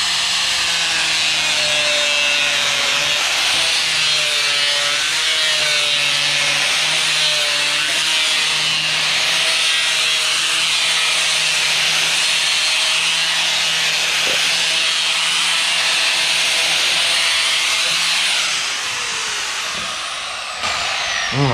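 Power tool rounding a radius along a plywood edge, a loud, steady whining roar of cutting that runs nearly unbroken for about twenty seconds, close up, then eases off at the end.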